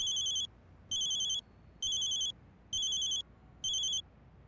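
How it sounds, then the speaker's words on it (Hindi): An electronic phone ring sounds in five regular bursts, each lasting about half a second with a pause between, over a quiet room. "किसका फोन है?"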